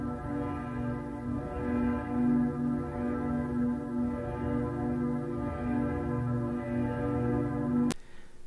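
Church bells peal in memory of flood victims, a sustained, droning ring with steady rhythmic swells that holds at moderate loudness before cutting off near the end.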